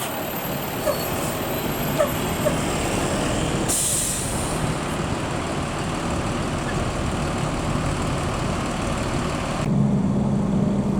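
An NPM intercity bus pulls into the Bukit Surungan Padang Panjang terminal after running from Jakarta, its engine rumbling steadily with an air-brake hiss and a fainter dog yipping in the background.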